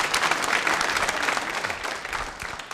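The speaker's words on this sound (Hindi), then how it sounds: "जोरों से बजाइए तालियां" A quiz show audience at a nursing college claps loudly and steadily, a dense, close wash of applause filling the whole brief moment.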